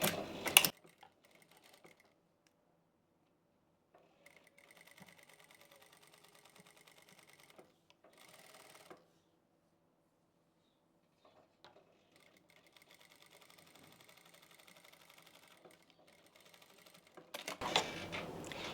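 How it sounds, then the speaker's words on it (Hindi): Lace being sewn onto kurti fabric with a sewing machine: faint, intermittent mechanical stitching runs in quiet stretches, with louder handling clatter at the very start and end. "इसकी उल्टी साइड को हमें इसके ऊपर रखना है और इसके ऊपर से हमें सिलाई लगा लेनी है।"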